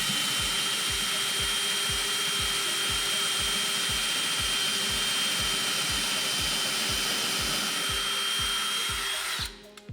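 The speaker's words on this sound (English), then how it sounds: "So I should be good to drill anywhere, ideally in the center." A power drill bores into a wall stud for a floating shelf bracket, a steady high whine with a fast, even ticking pulse for nearly ten seconds before it stops abruptly.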